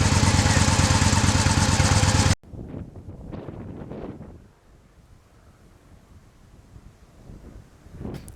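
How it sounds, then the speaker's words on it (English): A Victory Vision motorcycle engine roars loudly at full throttle, a dense sustained blast for about two seconds that cuts off abruptly, followed by fainter wind rush and distant engine passes. "the roar of the engine at full throttle as you power out and work through the gears"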